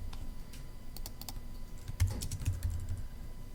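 Clicking keystrokes on a computer keyboard come in irregular quick bursts with short pauses, fairly quiet and close, over a low room hum.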